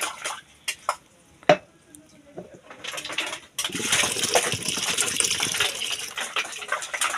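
Water poured from a container into a cooking pot, starting with a few sharp knocks and splashes and then settling into a steady, close gushing stream.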